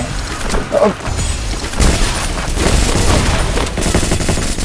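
Gunfire from the Free Fire video game comes as dense, continuous bursts of rapid shots, loud and close, from start to finish.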